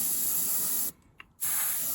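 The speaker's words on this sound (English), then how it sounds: "It dries pretty quick, and you can almost see the difference as soon as you spray it." Two close hissing bursts of an aerosol spray can of varnish, each about a second long, separated by a short silent pause.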